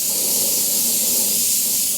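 Airbrush spraying violet paint through a template to render a shadow, a steady, even hiss of air and atomized paint holding loud and close for the full two seconds, with no voices.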